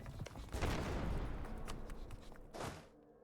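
Artillery barrage gunfire in a strategy video game, a dense sustained rumble of overlapping blasts with scattered sharp cracks, loud and close, ending in a final burst before cutting off, with no speech.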